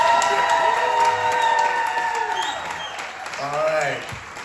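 Audience applause and cheering for guests at a Q&A panel during a Superman fan celebration, a loud crowd clapping and whooping that fades gradually as a voice talks over it.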